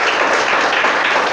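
A church congregation applauds in a dense, steady wash of clapping that runs at an even, fairly loud level from start to finish, with no voices standing out.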